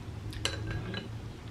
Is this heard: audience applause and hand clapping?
no